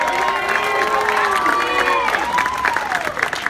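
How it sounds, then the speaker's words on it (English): A crowd at an early-vote political rally applauds and cheers for congressional candidates, loud clapping mixed with whoops and shouted voices throughout. "Let's give a big round of applause to all our congressional candidates."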